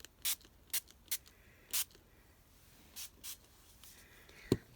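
A spray bottle squirts water onto watercolor paint in several short, sharp hissing bursts, four quick ones and then two more after a pause, close and distinct against near silence.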